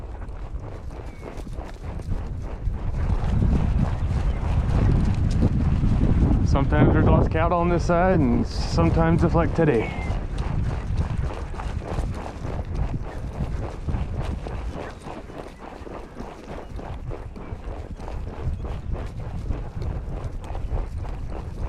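Horses trot along a ranch trail in southeast Montana, a steady run of hoof clip-clops under near, continuous talk from a rider, with light wind noise throughout.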